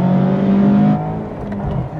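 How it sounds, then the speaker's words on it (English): Engine of a 2024 Mazda MX-5 accelerating, a steady loud induction drone with a low humming tone that eases slightly partway through, with no talk over it. "It's just all induction noise."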